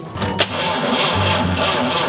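A 1947 Chevrolet Fleetline engine on full choke cranks with a sharp catch, then settles into a steady, loud, close running rumble.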